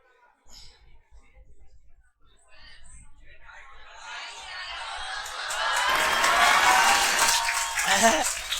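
A classroom audience of students breaks into clapping and cheering that swells from scattered claps into sustained, loud applause with some shouts, following a brief stretch of voices.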